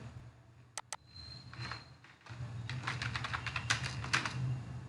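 Typing on a computer keyboard while building a registration form: two sharp clicks, then a quiet pause, then a steady run of quick, soft keystrokes close to the mic, no speech.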